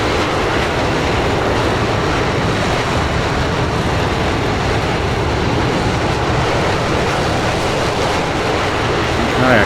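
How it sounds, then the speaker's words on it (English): Loud, continuous jet roar from a Chengdu J-20 fighter throttling up to afterburner in Microsoft Flight Simulator, a dense broadband rumble that holds steady throughout. "Let's throttle it up. Decent afterburners."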